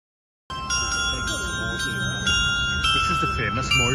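Bells ring in Morzine, with repeated bright, tinkling strikes that keep sounding while people talk nearby.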